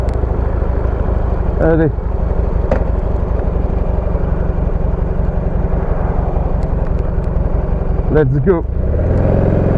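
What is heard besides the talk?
Buell motorcycle engine revving as throttle is opened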